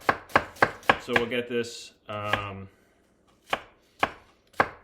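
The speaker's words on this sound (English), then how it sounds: "You got kind of an onion there, and I'm just gonna slice it along the cut end." A knife slices through an onion on a cutting board in a quick run of sharp, evenly spaced chops, then pauses before a few slower, separate cuts, close and crisp, with a brief voice speaking in the middle.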